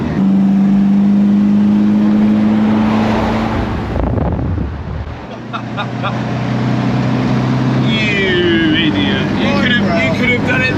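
A 1965 Volvo Amazon wagon fitted with a Volvo B20 engine drives at speed on a road, a loud steady engine drone with a dip and rise in pitch midway, heard from inside the car.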